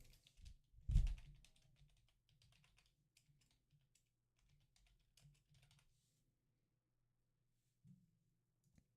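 Typing on a computer keyboard gives soft, sparse clicks at a quiet level, with one louder thump near the start.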